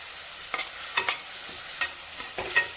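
Onion, tomato and curry leaves mixed in a pan for a mushroom curry, heard as about six distinct spoon scrapes and taps against the pan over a quiet sizzle, with no talk.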